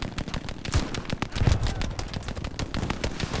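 Gunfire in Hell Let Loose during an American fight at Utah Beach, a dense, loud stream of rapid automatic shots and overlapping bursts that continues without letup, close and heavy.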